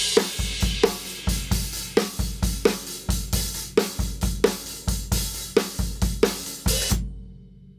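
A modern bossa nova rhythm on snare drum, beaten on 2 and the and of 3 over a steady kick-and-cymbal pattern, repeats as sharp, close hits in an even groove before stopping abruptly.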